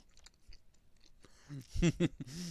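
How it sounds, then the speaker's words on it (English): Crunchy, wet chewing of Popeyes ghost pepper chicken wings sounds close to the microphone, in irregular bites that grow louder toward the end. "my chewing sounded disgusting"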